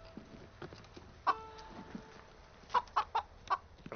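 Chicken clucking in a quiet indoor space, a few short bursts of clucks spaced across the moment, fairly close and distinct against low background noise.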